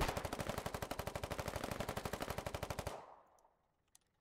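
Automatic gunfire in a military tactical video game: one rapid, even burst of about three seconds that stops abruptly, followed by near silence and a faint click.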